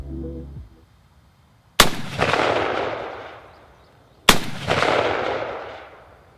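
A Johnson recoil-operated rifle fires two loud, sharp shots about two and a half seconds apart. Each crack is followed by a long echoing rumble that slowly fades, with near silence between the shots.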